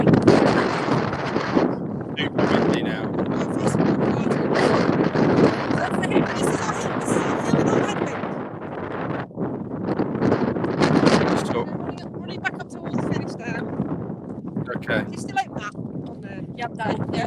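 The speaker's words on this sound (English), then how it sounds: "Super windy now." Strong gusting wind buffets the microphone outdoors on a parkrun path, a loud continuous roaring rumble that swells and dips, with brief breaks and voices faintly under it.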